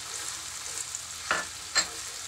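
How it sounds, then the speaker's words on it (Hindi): Ginger garlic paste frying in oil, a soft continuous sizzle broken by two sharp scraping strokes of stirring late in the clip, heard close with no voices. "अदरक लहसुन का पेस्ट जो है वो मैंने इसके अंदर डाल दिया है। इसे अच्छी तरह से मैंने फ्राई भी कर लिया"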